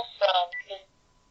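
Dialing tones from a phone on speakerphone, a few brief tonal beeps in quick succession, moderately loud and close, with no voices over them.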